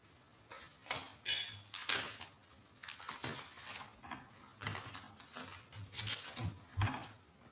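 Tarot cards being cut and shuffled by hand, a series of short crisp papery slaps and riffles at close range, irregular and fairly quiet, with no talking.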